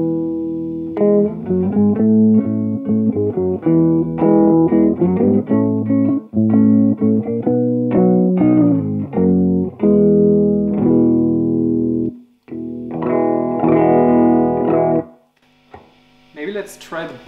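A Musima Eterna deLuxe guitar strung with flatwound strings is played in a dull, warm tone, with a continuous run of picked notes and chords, briefly pausing before the playing resumes.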